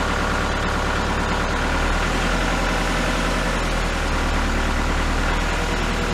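A snow plow's engine idles steadily as it warms up during a blizzard, a loud, close, continuous low rumble with no change in pace and no voices.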